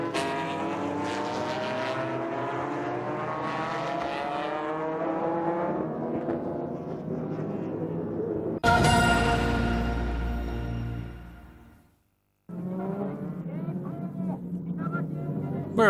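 Super GT race cars roaring at Autopolis for a race start, engines droning and swelling under commentary, then a loud close burst that fades to a brief silence before the racing noise returns.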